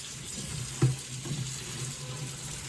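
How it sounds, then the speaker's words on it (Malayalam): Water runs from a tap into a vessel to soak chopped cauliflower, a steady, soft rushing stream nearby with a small clunk early on. "ഇനി വെള്ളം നിറയ്ക്കാം"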